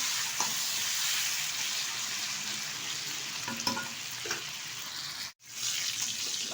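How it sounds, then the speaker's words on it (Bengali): Cubed potato and pointed gourd fry together in a pan with a steady bright sizzle, occasional stirring clinks and scrapes, and a brief dropout near the end. "এবার সুন্দরভাবে পটল আলুটা ভেজে নেব সময় নিয়ে।"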